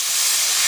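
Water is poured into a hot pan holding green chilli and ginger paste and turmeric powder, setting off a short, loud burst of steady steam hiss with no one speaking.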